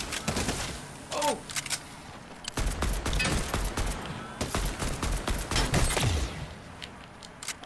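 Enemy weapons firing in the Fortnite video game, rapid bursts of gunfire in loud clusters with brief pauses between volleys, one short voice exclamation mixed in.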